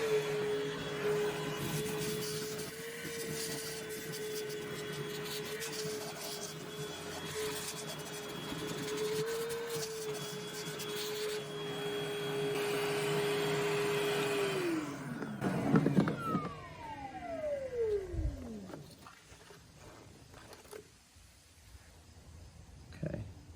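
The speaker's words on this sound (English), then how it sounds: "Let's vacuum all that out." A vacuum cleaner whines steadily while sucking debris and an old nest out of a 5th-generation Honda VFR800 motorcycle, then shuts off and its motor winds down.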